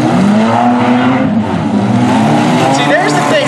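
Toyota Corolla race car in a figure 8 race: engines rev and whine loudly over a crowded track with tires squealing, while a voice talks over the noise.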